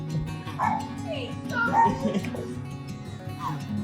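A puppy gives short yips and whimpering barks close by, scattered through the stretch over steady background noise, while people talk and laugh over it.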